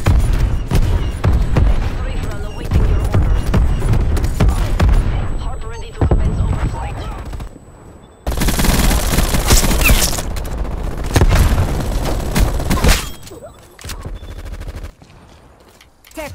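Gunfire in the shooter game Black Ops Cold War: loud bursts of rapid automatic fire and booming shots, with a brief gap partway through, and voices speaking over the action.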